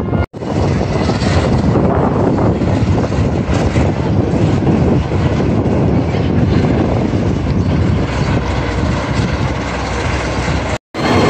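Steel Vengeance roller coaster at Cedar Point amusement park, a loud continuous rushing roar of the train on the track, sustained for about ten seconds with a brief dropout near the end.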